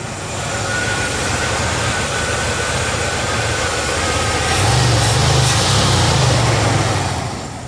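A 1979 Lincoln with newly installed HEI ignition runs steadily at idle, a continuous loud, even engine rumble with a slight rise in revving partway through, heard alone and close up.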